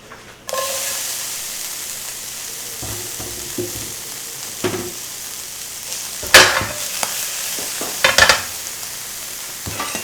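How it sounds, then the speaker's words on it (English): Chopped white parts of green onions sizzle in a nearly dry pan with a little leftover fat, a steady close frying hiss with occasional stirring scrapes and sharper crackling bursts. "As soon as you can hear the sizzle, hold on, let's hear the sizzle."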